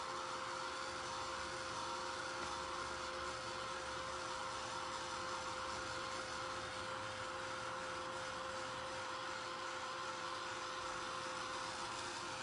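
Heat tool blowing steadily over the top of a napkin art wood piece, a constant even whirring roar that holds without change throughout, moderately loud and close with no talking.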